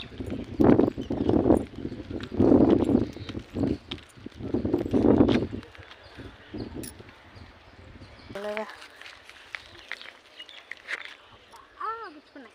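Hooves of cows being led on foot clop unevenly in several close bursts, with people talking and birds calling faintly in the background.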